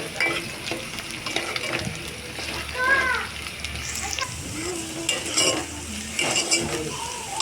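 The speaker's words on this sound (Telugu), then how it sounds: "ఇప్పుడు కరివేపాకు కూడా వేసుకొని ఒక టూ మినిట్స్ ఇలా కలుపుకుంటూ ఫ్రై చేసుకోవాలి" Onions, green chillies and curry leaves stir-fry in a pan for an Indian brinjal curry, a steady sizzle with scraping stirs and occasional utensil clinks while someone talks throughout.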